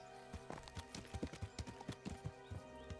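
Hooves of a horse called Pebbles clop in a quick, rhythmic run of soft, close hoofbeats in a video game, under a layer of tonal music and ambience. Nobody talks.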